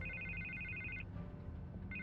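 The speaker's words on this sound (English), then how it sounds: "I can't get the phone to stop ringing." Electronic telephone ringtone from a Batman video game, a steady warbling ring for about a second, then a pause before it resumes, over a low background hum.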